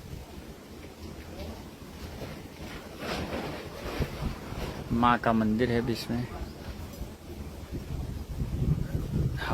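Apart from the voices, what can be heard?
strong wind blowing outdoors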